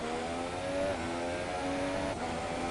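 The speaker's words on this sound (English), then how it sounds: "You can definitely hear him coming out of the corners as he's feathering the throttle a little bit." Race car engine in a racing video game at the Brazilian GP, a steady droning whine that dips and rises as the throttle is feathered out of corners, continuous and fairly distant with no talk.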